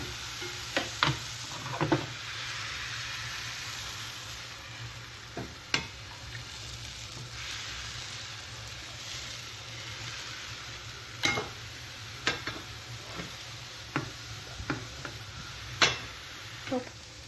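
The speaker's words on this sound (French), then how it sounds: "nous nous retrouvons pour la cuisson des crêpes" Crêpe batter cooks in a pan greased with butter or oil, giving a steady soft sizzle throughout, broken by occasional light clicks and taps of a utensil.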